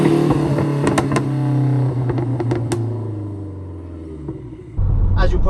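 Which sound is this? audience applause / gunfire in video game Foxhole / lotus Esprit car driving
lotus Esprit car driving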